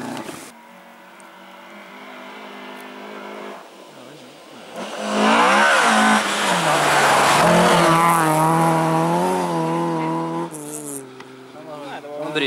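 A rally car blasts through a special stage of a Norwegian rally in Numedal, the engine rising from a distant approach to a loud, close revving pass with tyre squeal, then fading as it departs; no talk over it.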